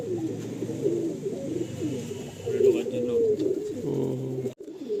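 Pigeons coo close by in soft repeated rolling calls, with a voice talking underneath.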